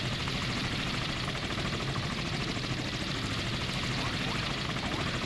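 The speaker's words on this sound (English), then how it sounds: "we'll want to get the helicopter out of the way, because RBUs will be smashing through their rotors" Helicopter rotors in the naval combat game Sea Power, heard as a dense, steady engine and rotor roar that fills the whole stretch without pause.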